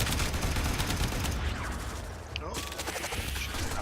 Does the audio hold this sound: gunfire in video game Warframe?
yes